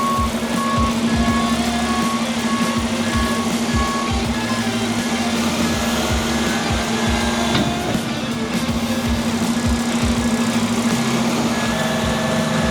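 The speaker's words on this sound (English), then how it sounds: "when I place the dumpster down on their plywood there, on the driveway" A truck reverses with steady, repeating backup beeps over a constant engine drone while setting a dumpster down onto plywood on a driveway, the beeps continuing through the whole stretch.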